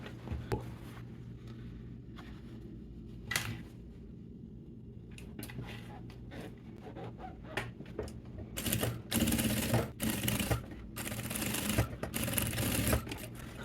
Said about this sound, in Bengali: এটাকে আগের মতো সেলাই দিয়ে আটকে দেব